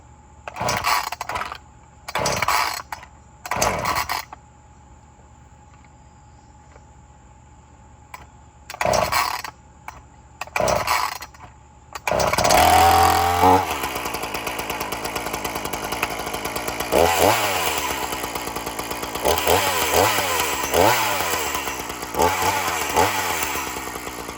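A tow chainsaw pull-started: several short ratcheting yanks of the starter cord with pauses between, then the engine catches and runs loudly at a rough idle with a few revving surges, close by.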